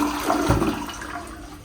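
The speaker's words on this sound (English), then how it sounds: "I'll go ahead and show you how the toilet flushes" A toilet in a Harrahs Las Vegas hotel suite bathroom flushes, a short close whoosh of rushing water.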